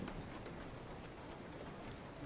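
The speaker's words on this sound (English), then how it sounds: "Oh, God, it's raining outside." Rain falling outside in the horror game Resident Evil 7, heard as a steady, dense, even hiss of downpour that holds unchanged throughout, with no voices over it.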